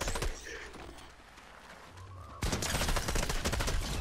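Rapid SMG gunfire in Fortnite, a brief burst early, then dense sustained automatic shots filling the second half, loud and close.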